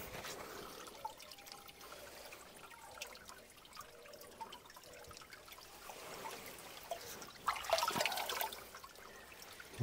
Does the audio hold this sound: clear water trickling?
yes